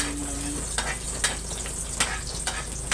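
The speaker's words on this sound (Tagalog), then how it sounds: "Sinunod natin yung bawang. At hinalo-halo muna natin to para papula-pulay ng kaunti." Garlic sautéing in oil in a pan for pork adobo, a steady close sizzle with scraping stir strokes at irregular intervals and no talking.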